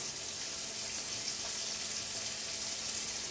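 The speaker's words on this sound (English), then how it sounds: "we're just going to sear that on all sides" Food searing in a hot pan in a mountain cooking school kitchen, a steady close hiss and crackle of sizzling that runs evenly throughout without talk.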